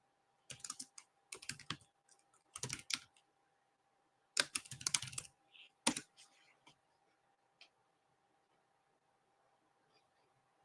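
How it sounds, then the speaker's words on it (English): Bursts of quick clicking keystrokes on a computer keyboard come in short clusters, close and fairly quiet, trailing off into near silence. "I keep trying to use my keyboard."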